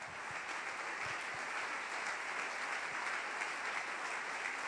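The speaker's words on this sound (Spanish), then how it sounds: "Dale un aplauso al Rey." A church congregation applauds for the King during a service, a dense, even roar of many hands clapping at once, sustained without a break across the short stretch.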